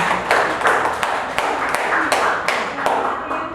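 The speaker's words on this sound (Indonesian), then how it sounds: "Tepuk tangan kita." Audience applause at a school dissemination event on positive school culture, a burst of brisk, fairly close clapping from a small crowd, rhythmic and sharp, with no talking.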